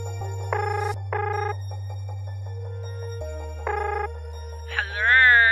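A telephone rings in a Filipino radio drama, sounding a few short, bright electronic trills over a steady low hum, clear and close, followed by a rising tonal sweep at the end.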